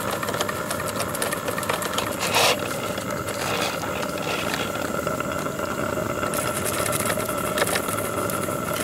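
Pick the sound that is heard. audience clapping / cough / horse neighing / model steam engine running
model steam engine running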